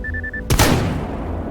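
A single loud gunshot from STALKER GAMMA bursts out after a steady tone, its sharp crack followed by a long rumbling reverberant tail that fades slowly; no talking.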